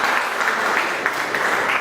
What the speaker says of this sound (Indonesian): Tepuk tangan sekali lagi yang meriah.